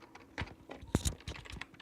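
Keystrokes on a computer keyboard while typing a chat command in Minecraft, a quick irregular run of close, crisp clicks with one louder thump near the middle.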